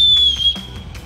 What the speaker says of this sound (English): has a built-in whistle